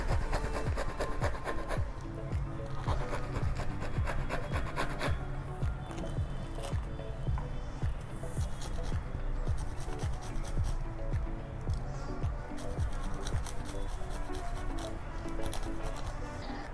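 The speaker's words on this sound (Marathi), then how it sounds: "त्याचप्रमाणे आपल्याला थोडीशी संत्र्याची सालही किसायची" Orange peel rubbed against a hand grater for a Christmas cake, a steady close scraping rasp that runs continuously with a dense, even texture and no talking.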